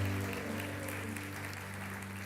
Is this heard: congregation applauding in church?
yes